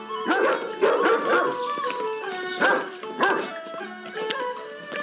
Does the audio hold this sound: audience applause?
no